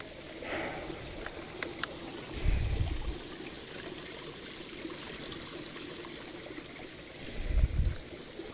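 Clear water in a creek flows and trickles continuously close by, a steady broadband rush with a couple of brief louder splashes or bumps.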